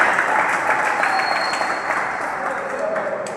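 A crowd at an IPNU-IPPNU youth gathering inside Daarul Muslimin mosque applauds in a steady, dense wash of clapping that holds evenly for a few seconds, with a few voices faintly mixed in.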